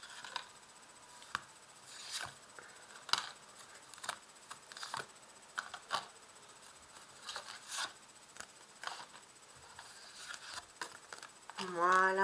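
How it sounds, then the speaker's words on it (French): Tarot cards are drawn and shuffled from a deck close to the microphone, giving soft intermittent rubs, slides and light flicks of card stock in an otherwise quiet room. "Et je tire 5 cartes."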